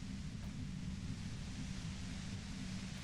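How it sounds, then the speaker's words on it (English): Steady, dense white noise from the video game Disco Elysium fills the whole stretch as an unbroken hiss with a heavy low rumble beneath, even and constant, with no voices. "you can do it through the white noise."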